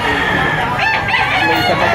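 At a crowded poultry market in Lipa City, Batangas, a rooster lets out a loud nearby crow, rising and wavering over the background bustle, with some talk mixed in.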